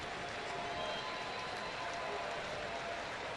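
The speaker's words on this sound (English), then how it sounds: "The smattering of applause that you hear in the ballpark" A ballpark crowd gives a smattering of applause at a baseball game between Toronto and the Angels. Scattered clapping blends into a broad, distant crowd wash that stays steady and fairly faint, with no clear voice on top.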